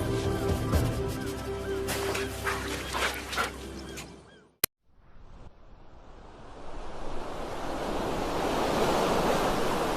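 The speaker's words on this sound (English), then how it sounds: "where the river meets the sea." Ocean surf rolls and washes steadily where a river meets the sea on a coast, a broad hiss of breaking waves that builds toward the end, mixed with wind buffeting the microphone.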